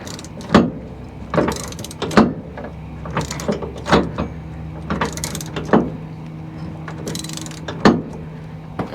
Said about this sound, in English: You got to literally ratchet the entire nut onto the bolt.